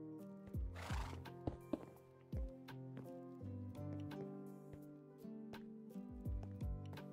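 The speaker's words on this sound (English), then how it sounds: "Move the horse." A horse in the Minecraft video game neighs and whinnies several times, mixed with soft clip-clopping hoof steps over quiet sustained background tones, with no talking.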